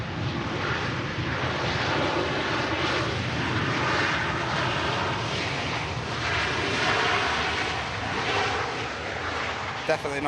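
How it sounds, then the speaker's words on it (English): A Ryanair airliner lands and touches down with a slight bounce, heard as a steady, broad engine and airflow roar that fills the whole stretch at moderate distance, with no clear break. "Lovely touchdown from the Ryanair. Slight bounce, but it was a nice touchdown."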